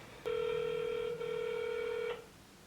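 An iPhone call gives a steady electronic tone lasting about two seconds with a brief dip in the middle, clear and close in an otherwise quiet room.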